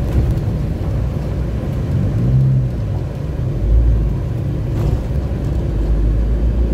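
A Corsa race car with a 2-litre turbo engine of about 300 brake horsepower runs at Three Sisters circuit during an evening time attack event, giving a steady, loud, low rumble throughout with no voices.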